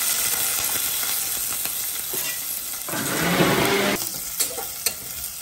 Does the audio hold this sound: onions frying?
yes